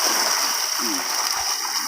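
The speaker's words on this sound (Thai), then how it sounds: "ครับเทน้ำใส่เลยครับ" Water pours steadily into soil around a newly planted large tree, a close, continuous rushing splash that fills the whole moment, with a faint voice briefly audible underneath.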